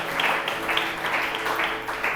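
A church congregation claps in praise, a burst of rhythmic applause with repeated unified hand claps over a crowded room, with a voice faintly underneath.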